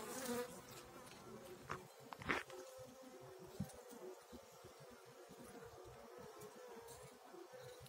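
Honeybees buzz faintly while gathering honey, a thin, wavering hum that carries on throughout, with a few soft knocks and no speech.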